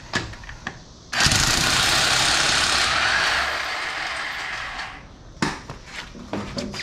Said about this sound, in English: we're gonna get our electric impact wrench, start taking these off